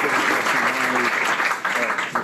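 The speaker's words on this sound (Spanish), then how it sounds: "quiero darles la bienvenida a Alejandro y que todos demos un buen aplauso" Audience applause fills a lecture hall after an architecture conference host welcomes the speaker, a steady, dense wash of clapping that stays loud throughout, with a faint voice murmuring underneath.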